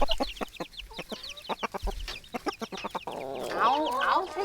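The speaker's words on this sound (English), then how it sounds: "I love having chicks." Young chicks clucking and peeping, a busy series of close, rhythmic clucks and chirps followed by a burst of overlapping high peeps.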